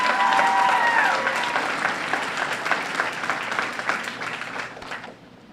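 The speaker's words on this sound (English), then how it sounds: "why don't you give a round of applause to your teachers, the administrators, the school committee, and your parents" At a school scholarship night, a crowd applauds teachers, administrators and parents with loud, dense clapping that gradually thins and fades out near the end.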